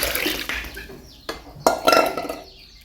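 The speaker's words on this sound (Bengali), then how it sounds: "হ্যাঁ, এই পরিমাণ ঠান্ডা এখানে পানি মিক্স করবে" Cold water is mixed into warm drinking water for goats in winter, giving short, close splashes and sloshes punctuated by clinks of a container.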